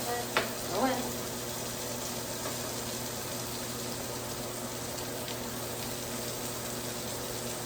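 Flank steak sizzles in a pan on the heat, a soft continuous hiss with a couple of brief clinks near the start, fairly quiet and steady.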